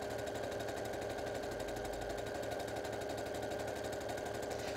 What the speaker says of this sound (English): And I'm just sewing along the bag handle.